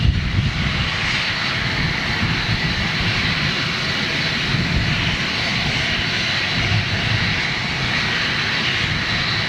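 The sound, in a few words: airliner jet engine idling at Manchester Airport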